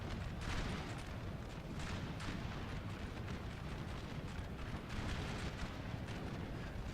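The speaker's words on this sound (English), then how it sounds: "my artillery is going to be opening up in a minute" Artillery fire in the battle game Napoleon: Total War 3, a dense rumbling barrage of distant booms and crackling gunfire rolling continuously with no pauses.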